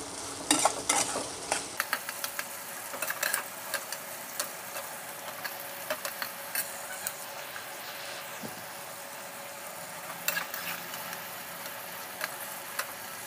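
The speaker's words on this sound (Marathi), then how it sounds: "मी कांदा व्यवस्थित परतून घेते।" Onions sautéing in a pan for dry chicken masala, a steady close sizzle with frequent spatula stirs and scrapes clicking throughout, no voices.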